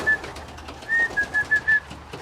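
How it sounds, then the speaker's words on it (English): Pigeons coo in a short run of soft rounded calls, one then a quick cluster of four, close by as the birds come up to drink in a loft with checker and blue bar birds. "You see the birds coming up for a drink."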